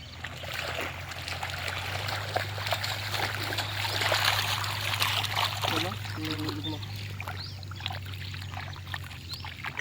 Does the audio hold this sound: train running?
no